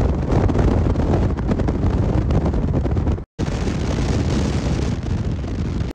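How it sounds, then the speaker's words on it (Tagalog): Loud, roaring wind buffets the microphone continuously, rushing through an open car window, with a brief dropout midway. "ang lakas ng hangin dahil kapag nabiyahe mas gusto ko na nakabukas ang bintana"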